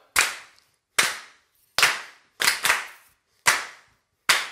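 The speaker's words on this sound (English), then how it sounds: "clap it out now" Sharp, loud claps sound one at a time at a slow, steady beat, each ringing out in a reverberant room before the next, as a church congregation claps along to a hymn.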